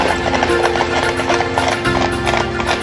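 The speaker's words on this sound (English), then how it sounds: "The sudden appearance of these 6 huge horses makes everyone curious." Hooves of six huge horses clip-clop steadily while pulling a specially built twelve-passenger wagon, a busy rhythmic clatter with an occasional whinny, loud and close, with faint voices in the background.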